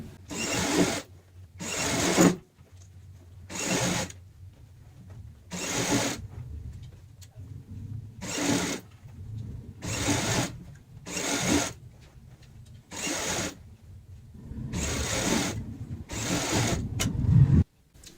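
A home sewing machine stitches a handmade cloth handbag in about a dozen short, whirring bursts of a few seconds each, separated by brief pauses as the fabric is repositioned, with no talking.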